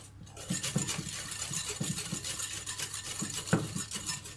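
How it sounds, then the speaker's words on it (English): A whisk beats eggs and sugar together in a bowl for cake batter, a quick rhythmic series of close clicking taps and wet sloshing strokes against the bowl, steady throughout with no talking. "I have a lot of recipes that are eggs and sugar whisked together first to make your batter"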